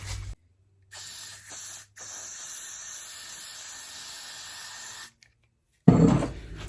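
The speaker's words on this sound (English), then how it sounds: "I'm going to take some Got2b spray and spray the roots so the bleach doesn't really touch the roots." Got2b hairspray sprays from an aerosol can onto wig roots in several hissing bursts: a short spurt, a brief one, then a sustained hiss of about three seconds, separated by silences and followed by a louder clatter.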